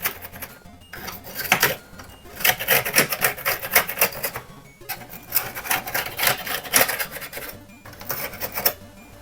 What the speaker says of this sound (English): a little bit of IPA and a thin brush should hopefully do the job of getting in between these keys